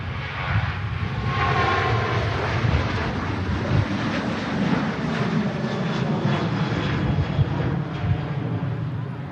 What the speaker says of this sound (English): RyanAir to Milan. Rotates.